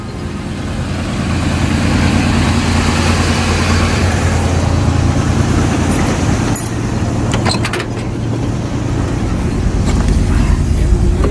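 A truck engine idles with a loud, steady low rumble throughout, with a few brief metallic clinks over the drone.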